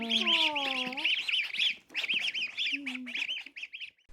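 Young goslings peep in high, rapid chirping bursts close by, while a voice below them makes low sustained vocal tones.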